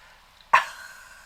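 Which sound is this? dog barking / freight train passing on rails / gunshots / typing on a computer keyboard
dog barking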